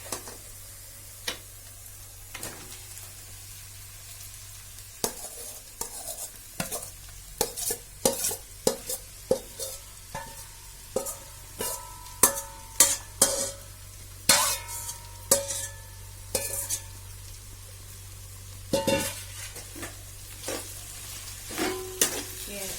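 Okra tossed into a pan with browned onions, frying with a steady soft sizzle under repeated sharp scrapes and taps of a spoon stirring against the pan, close by and with no talking.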